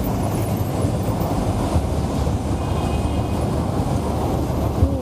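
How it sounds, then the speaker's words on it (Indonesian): An MRT Jakarta train passes on a Jakarta street, a steady loud rumble of wheels and rail noise that holds evenly throughout, with no voices over it. "Wah ini ada MRT Jakarta nih"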